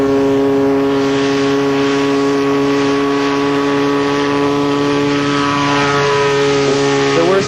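A small homebuilt propeller aircraft drones steadily and loudly nearby, its engine hum holding a constant pitch with a slight shift near the end.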